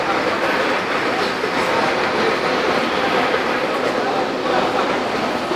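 A metro train rumbles past Lagoinha station beside the Belo Horizonte bus terminal, a steady loud roar with faint rail clatter throughout.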